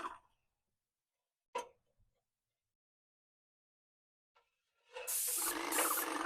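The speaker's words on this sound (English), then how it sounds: "we're spraying under the soffit." A paint sprayer spraying under the soffit of a tiny house starts up after a few faint clicks and quiet gaps, then gives a steady loud hiss to the end.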